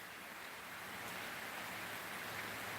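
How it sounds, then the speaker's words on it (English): Steady rain falls outside, a dense even hiss of drops on surfaces, close and continuous with no voices. "You hear the rain?"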